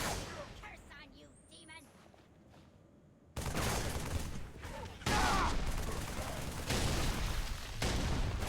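Rapid bursts of Halo 3 gunfire crackle loudly and continuously, with volleys growing denser and more intense after a quieter opening stretch.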